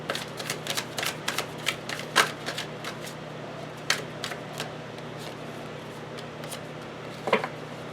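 A deck of tarot cards being shuffled by hand, quick riffling and flicking bursts in irregular clusters with sharper snaps now and then, close and fairly quiet over a low steady hum.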